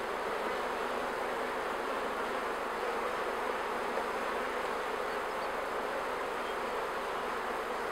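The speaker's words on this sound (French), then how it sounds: "Il n'y a pas beaucoup d'abeilles." Honey bees in an open hive hum in a dense, steady drone that stays even and close throughout, with no talk over it.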